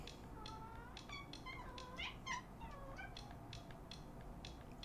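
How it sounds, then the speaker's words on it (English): A cat meows again and again, with several drawn-out, wavering cries close together over about five seconds, fairly near and clear above a low background hiss. "That's my cat."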